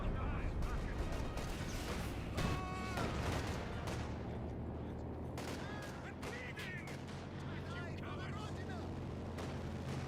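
Heavy 150mm mortar artillery fire in the Company of Heroes 2 war game, a dense rumbling barrage of booms and blasts layered over continuous battle noise, with a voice talking throughout.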